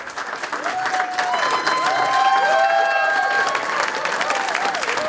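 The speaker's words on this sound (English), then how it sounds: "Scalise gets a standing ovation from the Texas crowd" Standing ovation from a Texas crowd for Congressman Steve Scalise: loud sustained applause mixed with cheers and whoops, building and holding steady from a large audience.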